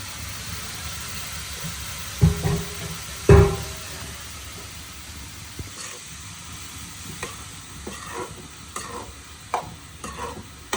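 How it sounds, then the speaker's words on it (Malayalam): Cabbage is stirred and fried in a pan on a stove, giving a soft, continuous sizzle broken by a few louder scraping stirs. "ക്യാബേജ് അടുപ്പിൽ തന്നെ ഇടാൻ പോവാണ് കേട്ടോ"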